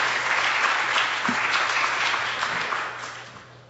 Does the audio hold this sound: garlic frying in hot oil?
no